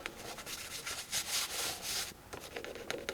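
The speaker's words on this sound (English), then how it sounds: "I just kind of like take my finger and try to scrape them off" A fingertip scrapes bits of colored pencil pilling off a paper coloring page, giving a steady, close dry rubbing that runs in a few sustained strokes with brief pauses between them.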